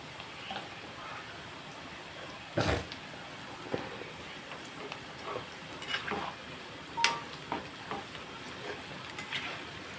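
Amaranth leaf and peanut pakodi fried in oil while a spoon stirs them, with soft sizzling under scattered clinks and scrapes of metal against the pan, close and intermittent, no voices.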